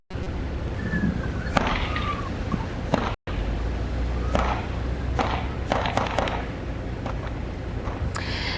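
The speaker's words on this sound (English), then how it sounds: "you could hear those multiple gunshots going off" Several sharp gunshots ring out at irregular intervals over a steady outdoor hum, recorded on a doorbell camera at a nearby home, distant and echoing, with a brief dropout partway through.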